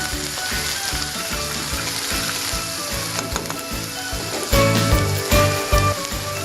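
Ginger, garlic and onion paste fries in a pan with whole spices for an egg korma, a steady sizzling hiss with intermittent scraping stirs, fairly loud and close, over faint background music.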